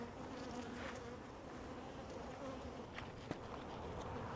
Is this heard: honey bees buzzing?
yes